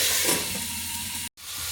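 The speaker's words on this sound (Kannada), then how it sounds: "ಈಗ ಉಳಿದಂಥ 2 ಟೊಮೆಟೊನ ನಾನು ಒಗ್ಗರಣೆಗೆ ಸೇರಿಸ್ತಾ ಇದ್ದೀನಿ." Two tomatoes go into a hot oil tempering of onion, dried red chillies and curry leaves for drumstick sambar, giving a steady loud sizzle and hiss with a brief dropout near the end.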